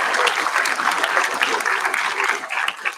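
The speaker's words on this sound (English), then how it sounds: "Why don't we clap it up for your teachers?" Audience at a school assembly applauding their teachers, a dense, steady wash of many hands clapping close and loud throughout, with no talk over it.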